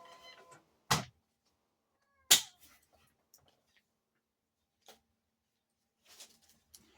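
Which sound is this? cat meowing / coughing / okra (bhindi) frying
cat meowing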